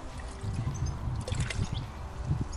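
Concentrated amino bait dip for bream fishing is poured out and thinned with water, a close, steady trickle and gurgle of liquid lasting a few seconds with no talking.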